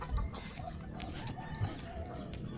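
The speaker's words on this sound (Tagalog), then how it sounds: "May manok." Chickens cluck in short, scattered calls at close to moderate range over a steady low rumble of background noise, with no clear talking.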